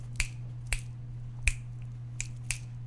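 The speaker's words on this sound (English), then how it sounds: "you're seeing and hearing me snapping my fingers" Finger snaps, five sharp crisp clicks at uneven intervals, fairly close and alone over a steady low electrical hum.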